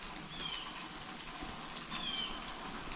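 Steady rain falls on a foggy mountain ridge as an even, continuous hiss of drops throughout, with a couple of faint high chirps over it and no talk.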